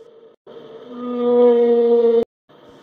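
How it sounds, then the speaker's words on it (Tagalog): Whale vocalization: a single long, loud, tonal moaning call with steady harmonic layers, swelling over about two seconds before cutting off, preceded by a brief softer tone and followed by a faint trailing note. "Tama, ito ay tunog ng balyena."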